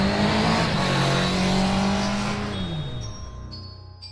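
A motorbike engine roars loudly and steadily while speeding in a chase after a truck, its pitch holding then dropping and fading as it pulls away, with no talk.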